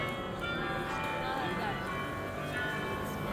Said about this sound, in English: with the bells sounding in the belfry